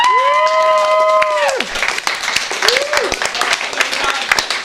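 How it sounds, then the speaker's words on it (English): Studio audience applauding and cheering at a mentalism show, with a sustained whoop over the clapping at the start, then a second shorter cheer as the applause continues for several seconds. "round of applause for our murder victim and also our murderer, Chris."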